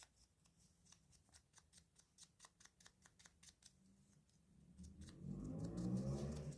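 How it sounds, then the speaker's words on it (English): A big motorbike revving outside. Faint rhythmic clicking comes first, then a low engine rumble swells in from a distance and grows louder over the last couple of seconds. "there's a big motorbike outside making a lot of noise."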